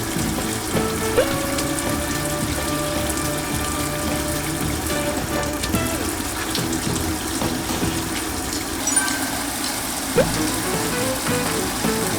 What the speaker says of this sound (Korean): 제일 먼저 양파를 물에 씻어줄 건데요.